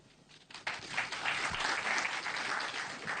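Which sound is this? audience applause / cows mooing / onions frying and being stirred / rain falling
audience applause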